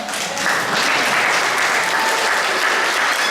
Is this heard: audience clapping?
yes